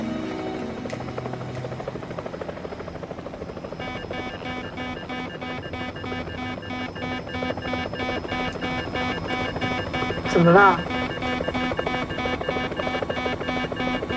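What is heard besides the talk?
aircraft in flight with a malfunction (drama sound effect)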